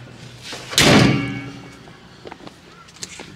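A car door on an R33 Nissan Skyline GTS-T is swung shut with a single loud, close thunk, followed by faint small clicks and rustling.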